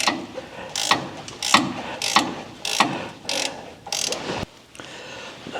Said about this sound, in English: the first thing I'm going to do is undo these nuts here